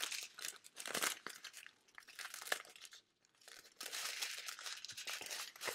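Cardboard packaging flaps on a diamond painting kit box are folded and pushed back in, giving bursts of crinkling and scraping handling noise with a brief pause midway, close and moderately loud, no talking.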